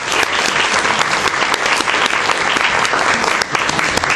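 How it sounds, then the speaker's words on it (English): An audience gives a loud, steady round of applause for San Francisco Supervisor Jane Kim at a DiverCity Week diversity event, many hands clapping in a continuous wash for about four seconds. "so let's give her another round of applause"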